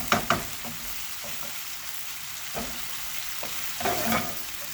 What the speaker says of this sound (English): Flip them over to get sear on both sides